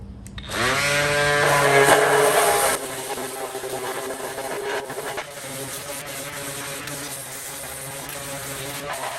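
A power sander works over an old barn-sale metal tool box, a loud steady whine that eases slightly partway through and keeps running without pause.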